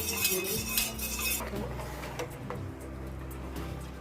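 A spoon stirs custard in a pot, scraping and clinking against the metal in a steady back-and-forth rhythm, close and moderately loud, with a brief hissing wash early on and no talk.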